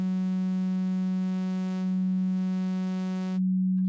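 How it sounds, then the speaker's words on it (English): A synthesizer sine wave tone from Krotos Igniter holds one steady, loud pitch for about three and a half seconds, then cuts off cleanly into silence. No voices are present. "So you start off with a sine wave here, whatever frequency you want."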